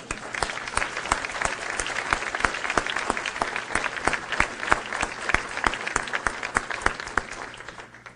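An audience applauding an honored guest, many hands clapping in a brisk, even patter that stays strong and close, then fades at the very end.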